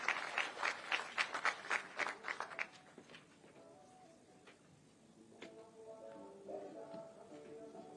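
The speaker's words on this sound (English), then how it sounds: "A round of applause as he comes to the stage kindly." An audience at a formal event with Kenya's First Lady Rachel Ruto in Nairobi gives a short round of applause that fades after about three seconds, followed by murmuring voices and faint background sounds.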